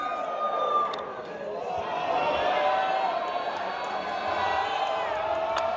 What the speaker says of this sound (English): That crowd was loving it.